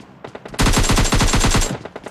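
Automatic gunfire in the PUBG Lite battle royale game, a loud rapid burst of about a dozen shots fired in quick rhythm, preceded and followed by a few faint distant pops.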